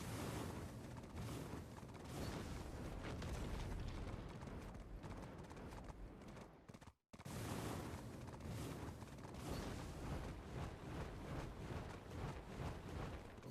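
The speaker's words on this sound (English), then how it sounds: "Holy flashbang, bro." A flashbang grenade goes off during video game play, giving dense, continuous crackling booms and clattering bursts. They fill the scene loudly, cut out for a brief silent moment partway through, then resume with the same intensity and no talking.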